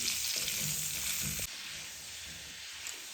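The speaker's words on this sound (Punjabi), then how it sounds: "ਗੋਭੀ ਨੂੰ ਆਪਾਂ ਮੀਡੀਅਮ ਸੇਕ ਤੇ ਚੰਗੀ ਤਰ੍ਹਾਂ ਫਰਾਈ ਕਰ ਲਵਾਂਗੇ" Cauliflower frying in a pan on medium heat, a steady hissing sizzle that drops noticeably in loudness halfway through and then continues softer, close by with no voices.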